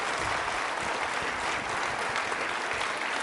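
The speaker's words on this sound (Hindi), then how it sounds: "तालियां बजाइए उनके सम्मान में आप।" Steady, dense applause from an audience at a university quiz event marking International Women's Day, a continuous wash of many hands clapping at even loudness throughout, with no voices on top.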